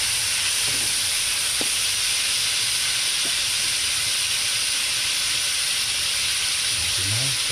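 Tomatoes sauté in a pan during outdoor cooking of freshly caught fish, giving a steady, even sizzling hiss throughout with a few faint knocks and brief voices in the background.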